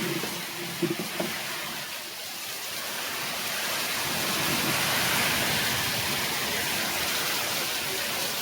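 Heavy rain pours down steadily in a village, a dense, even hiss of falling water that swells slightly louder midway and holds, with a few faint knocks near the start and no voices.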